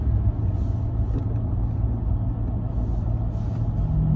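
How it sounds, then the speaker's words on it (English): A 2019 Ford Raptor pickup rolls along a road and accelerates, its engine a continuous low rumble with road noise, steady and close from inside the cab, with no talk heard. "we are rolling down Washington Road, and smooth driving, very fast acceleration."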